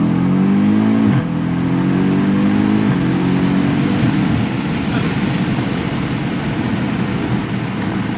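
The engine of a 2022 BMW M5 Competition revs hard on an open road, its rising tone climbing, dropping at each upshift and climbing again before settling into a loud steady roar, heard from inside the car.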